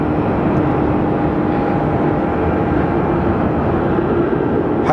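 A Southwest airliner arriving from Las Vegas at Phoenix Sky Harbor Airport produces a steady, loud broadband jet rumble with a faint whine, continuous throughout and heard from nearby.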